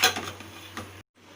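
A spoon scrapes and knocks against a pot while chicken idiyappam biryani is stirred, giving a few soft, close clatters and rustles before a short silence and a quiet pause.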